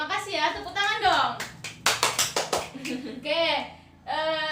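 In a classroom lesson, a small group gives a quick round of about seven hand claps in the middle of a teacher's speech, close and crisp, with talking before and after.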